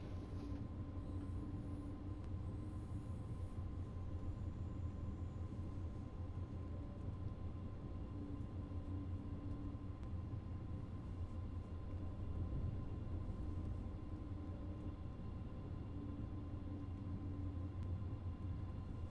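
An ICE high-speed train in Train Sim World 4 rumbles steadily along the track, a constant low drone with faint rail noise and a high whine, unchanging for the whole stretch with no talking.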